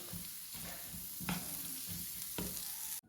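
Pickle being mixed by hand in a clay pot, a faint gritty stirring with a few distinct scraping knocks over a low background hiss, ending abruptly, no voices.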